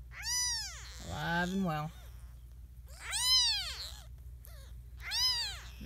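Week-old kittens in a litter give high, thin meows in quick bursts, close and clear, with a person talking softly between the cries.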